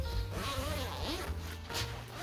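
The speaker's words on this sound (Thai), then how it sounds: "ตัวซิปเนี่ยซิปก็แข็งแรงนะครับใหญ่มาก" A large, sturdy zipper on a thick-fabric three-season tent bed with a steel folding frame is drawn open in one continuous close rasping pull lasting about two seconds.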